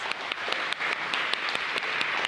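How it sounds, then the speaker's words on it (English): Audience applause after a participant's share at a leadership workshop: a steady wash of many hands clapping at moderate level throughout, with a few sharper claps standing out. "Let's give Nick a round of applause."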